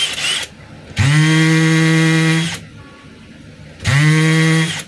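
A DeWalt DCD796 18V cordless drill in hammer mode whirs loudly in two sustained bursts, each ramping up quickly to a steady high-pitched drone, separated by a short pause.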